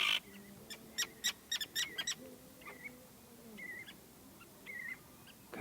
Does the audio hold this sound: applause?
no